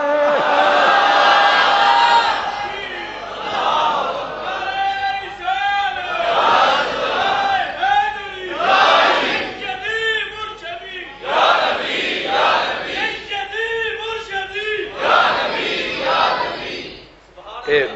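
A crowd at a religious gathering commemorating Imam Husain chants slogans in loud unison, call-and-response bursts rising and falling in waves with short pauses between, close and filling the room.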